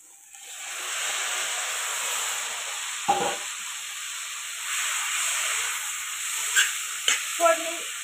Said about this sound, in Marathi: आता ह्याच्यामध्ये शेंगा टाकून घेणार आहे.